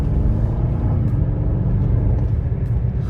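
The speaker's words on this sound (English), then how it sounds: "Here's one last acceleration run." Aston Martin DBX SUV accelerating hard, a loud, close, steady engine roar with deep rumble holding throughout, no talking.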